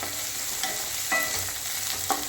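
A small tomato sautéing in a pan for wheat rava upma, with a steady sizzle punctuated by three or four sharp stirring scrapes and clinks, close and fairly loud, no voices.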